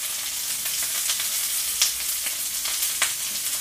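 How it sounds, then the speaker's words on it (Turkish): Tekirdağ köfte meatballs frying in oil in a pan, a dense continuous sizzle with scattered sharper pops and crackles, close and steady with no voices. "böyle yağlanıp kızartıyorlar normalde. Şimdi bu hemen kızarır."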